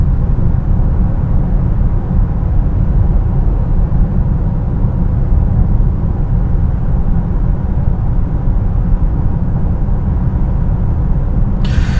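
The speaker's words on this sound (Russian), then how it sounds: "Вот давайте послушаем, какой уровень шума у нас в автомобиле." Steady, even cabin noise inside a 2018 Mazda CX-9 2.5 Turbo cruising at 100 km/h, a low broadband road and wind hum that holds constant throughout with no talking.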